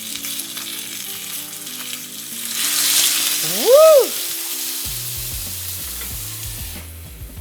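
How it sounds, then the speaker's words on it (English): Chinese dumplings frying in a hot pan with a loud, steady sizzle that surges as water is poured in, while an excited voice whoops briefly over the hiss. "now they're really sizzling, so it's time to add the water to finish this off."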